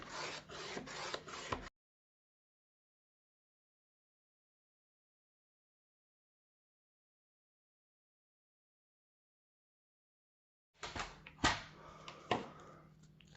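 Paper is cut for a scrapbooking envelope pouch: two short, close rasping bursts separated by a long stretch of silence.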